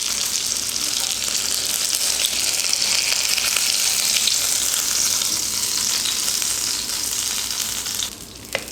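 Sankara fish sizzles steadily in hot oil in a pan, a continuous close crackling hiss that runs without talk before easing off near the end.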